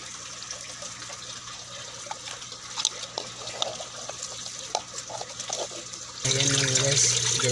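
Pumped water from a farm pump drains down and flows steadily, at first soft and trickling, then swelling to a louder, fuller gush near the end.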